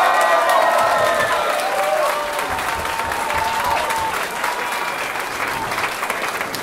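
After a title fight, a large crowd applauds and cheers loudly and continuously, the clapping dense and steady, with faint voices mixed in.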